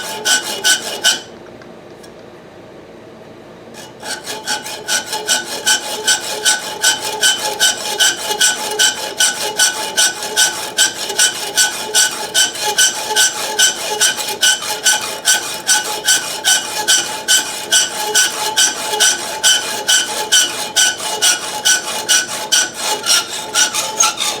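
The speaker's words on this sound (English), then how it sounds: "the next step is cut off the end of it so that it's a stud instead of a bolt" The end of a threaded metal bolt is cut off to turn it into a stud, with steady, rhythmic rasping strokes repeating closely for most of the stretch after a brief quiet pause near the start. No one speaks.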